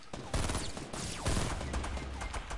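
Rapid gunfire in the Fortnite video game during a squad battle, dense bursts of automatic shots and loud cracks packed closely together and filling the whole stretch, with a voice talking faintly underneath.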